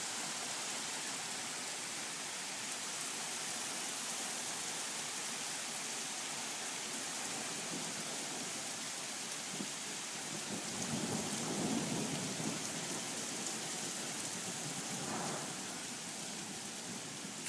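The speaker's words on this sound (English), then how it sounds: "it's raining like crazy" Heavy rain pours steadily outside a window, a dense hiss with low thunder rumbling through the middle, no voices.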